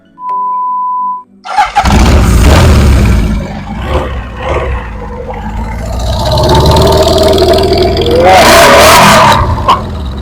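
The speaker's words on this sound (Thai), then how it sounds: "คือเป็นเสียงของเครื่องยนต์สี่สูบนะ" A short tone, then a four-cylinder Honda CB750 motorcycle engine cranks and roars to life, idling loudly before revving up sharply, close and dominant.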